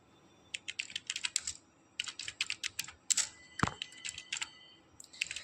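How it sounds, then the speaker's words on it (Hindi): Computer keyboard typing text into WordPad, with quick close key clicks in bursts and one short pause partway through, alone without speech. "सबसे पहले यहाँ पर हम कुछ टाइप कर लेते हैं।"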